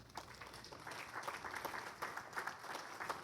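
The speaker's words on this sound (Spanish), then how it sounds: "Un aplauso al Señor." Sustained applause from a church congregation, steady clapping with a few louder bursts, filling the whole moment without talk.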